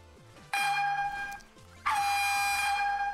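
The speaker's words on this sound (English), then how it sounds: "Air horn?" Two blasts of a loud, blaring air horn sound effect, the first lasting about a second, the second held longer to the end, with brief gaps of quieter background between.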